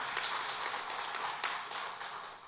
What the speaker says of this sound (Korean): 성삼위 하나님께 영광의 박수 올려드리겠습니다